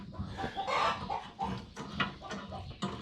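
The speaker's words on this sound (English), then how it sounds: "Bloody chicken." Chickens cluck and squawk close by in a busy, clattering farmyard, bursts of calls overlapping with scuffling and bangs.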